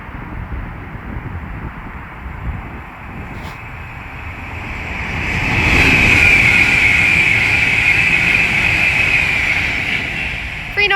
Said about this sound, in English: The next train to pass by is an Avanti West Coast Class 390 Pendolino from London Euston to